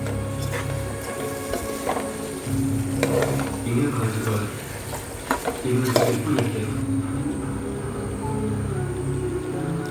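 Chicken is stirred into masala in a pan. A spoon scrapes and clatters through a low, steady sizzle, and the strokes come in uneven bursts against a constant background hum.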